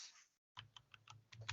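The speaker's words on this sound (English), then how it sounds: "I'm typing it now." Quick bursts of clicks from a computer keyboard being typed on, close and fairly quiet, starting after a short silence and continuing in an uneven rhythm over a low steady hum.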